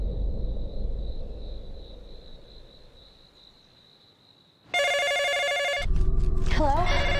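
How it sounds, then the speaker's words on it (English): Telephone bell ringing in a film scene inside a big modern house, loud repeated electronic rings starting midway after a quieter stretch of low ambient rumble, with faint voices near the end. "she gets a bunch of creepy phone calls at Wanda saying that, you know, breathing."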